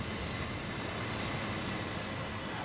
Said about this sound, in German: Lass mal so den Zug vorbeifahren.